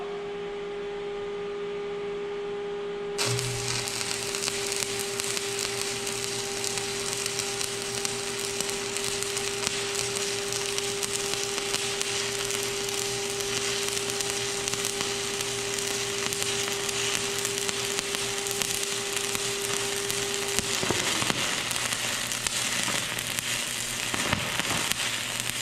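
Stick welding a flat fillet weld with a 1/8-inch 7018 electrode: a steady, loud crackling arc starts abruptly and hisses without a break for about twenty seconds, then stops, leaving a low hum.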